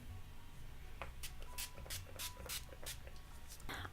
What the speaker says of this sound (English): I might actually put a little spritz of setting spray on.